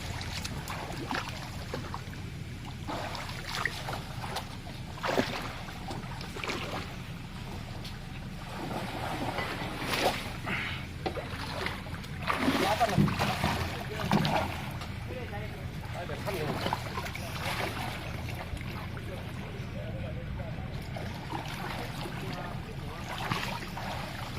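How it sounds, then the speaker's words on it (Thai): A small boat moves through floodwater in Thailand, with faint water swishing and engine rumble and occasional louder splashes and knocks, while people talk over it at a distance. "น้ำท่วม การสัญจรไปมากอะยากลำบากครับผม ต้องใส่เรือเป็นพาหนะครับผม"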